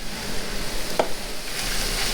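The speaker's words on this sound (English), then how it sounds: "we added the pepper. We're just stirring it through." Enchilada filling being stirred after a teaspoon each of salt and pepper goes in, a soft steady scraping and sizzling through the pan with one brief louder scrape in the middle.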